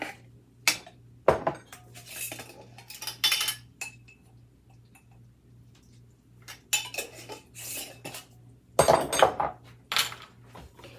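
Basil, salt and pepper are mixed in a dish, with bursts of metal spoon clinking and scraping against the bowl separated by short quiet gaps, close and fairly loud, with no speech.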